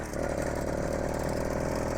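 An 80cc Zeda Triple 40 engine on a bicycle catches as the clutch is released, settling into a steady, buzzing two-stroke chug, close and even throughout.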